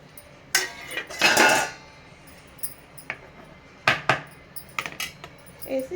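A warm chicken and potato cutlet mixture being stirred in a bowl with fresh mint and a handful of coriander, with intermittent clinks, knocks and scrapes of metal against the bowl between quieter pauses.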